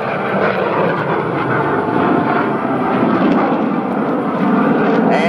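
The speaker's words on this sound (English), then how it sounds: "going to show you a thrust-to-weight demonstration of just how powerful this Vietnam-era aircraft was." A Vietnam-era MiG-17 jet fighter pulling up into a vertical climb at an air show, a loud, steady roaring engine rumble that fills the whole stretch without breaks.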